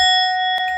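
A single bright notification bell tone rings with clear sustained overtones, loud and close, sounding alone and ringing on through the short moment.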